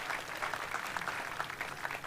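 Applause at a local hero awards ceremony, a steady wash of clapping from a crowd that holds at an even level throughout, with no voices above it.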